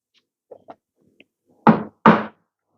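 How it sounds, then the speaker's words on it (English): Two firm knocks on a DF64V coffee grinder, close and loud, following a few faint light taps, with no talking. "And then do a gentle knock."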